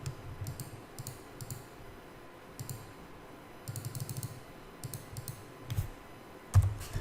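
Rapid typing on a computer keyboard, a quiet run of key clicks arriving in short bursts with brief pauses between them, plus a couple of louder taps near the end.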